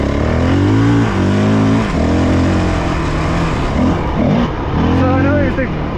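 A Honda CRF450L dirt bike engine with a stock ECU revs up and down in repeated surges under someone talking.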